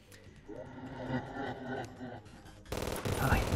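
Bullets fire in the video game Terraria, with rapid clattering shots amid game sounds that swell into a louder, dense burst of noise toward the end.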